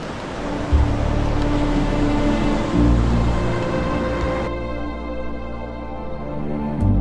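Cold sea waves washing onto a mangrove-lined beach in Middle Andaman, a continuous broad rush of surf with low rumbling swells, moderately loud and steady, easing slightly partway through before surging again.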